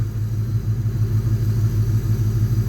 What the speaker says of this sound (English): you can see the compressor turning off and on